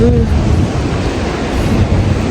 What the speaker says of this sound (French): Mais il y a des énormes vagues parfois